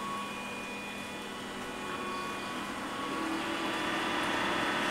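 A fan powered by an SPWM ATmega inverter with 24 HY5608 MOSFETs hums steadily and gradually grows louder as it speeds up, with a faint electrical whine above the motor drone.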